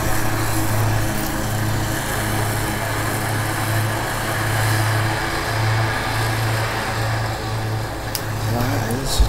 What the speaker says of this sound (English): that guy's mowing grass, does not need mowing